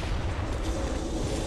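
A cannon firing in the video game Bloodborne, a loud, dense rumbling blast that fills the whole short moment without any talk.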